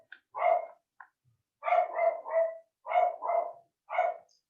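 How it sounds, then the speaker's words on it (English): A dog barks repeatedly and close by, a couple of short yips and then loud barks in quick clusters with brief pauses between them. "So I apologize for the barking."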